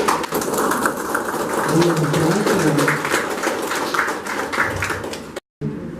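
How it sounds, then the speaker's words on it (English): An audience at a credit union celebration gives a sustained round of applause, dense overlapping claps lasting several seconds before cutting off abruptly. "Round of applause, please."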